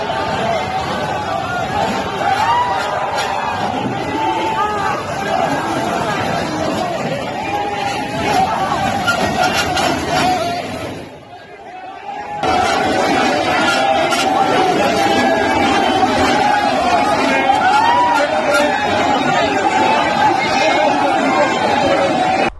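Large crowd of protesting farmers surging forward past barricades, a dense, loud babble of many voices and shouting that carries throughout with only a short dip in the middle.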